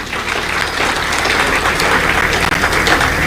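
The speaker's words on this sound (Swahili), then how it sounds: "tuwapigie makofi" Sustained, dense applause from a large audience at a Zanzibar event honouring the investors of the Jaz Elite Aurora hotel; steady clapping fills the whole stretch without a break.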